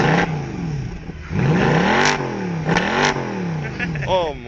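A Mercedes-Benz C63 AMG with the 6.3 engine is blipped in several sharp revs that rise and fall close by, loud and snarling, while people talk around the car.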